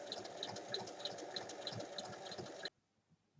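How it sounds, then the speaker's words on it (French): A sewing machine stitches a folded hem on fabric for a lined bag, a steady rapid mechanical whir with regular ticking pulses that runs for under three seconds close by and then stops abruptly into near silence. "Et je vais piquer mon ourlet."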